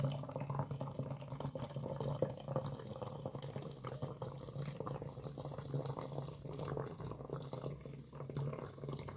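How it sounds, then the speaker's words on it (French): Boiling water being poured into a container while making a natural household cleaning recipe: a steady, soft liquid pour and splash running continuously, close by with no talk. "Ensuite, on va mettre l'eau bouillante."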